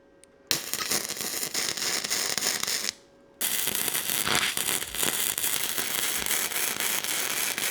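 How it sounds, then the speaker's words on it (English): Tack welding metal on an engine test stand: loud, continuous close crackling and sizzling in two long bursts separated by a brief pause. "All right, let me tack something down."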